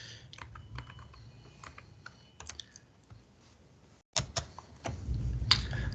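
Quick keyboard clicks and taps in short clusters, close and fairly quiet, followed by a louder thump and rustling handling noise.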